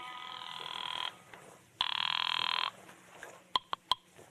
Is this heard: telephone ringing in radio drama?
yes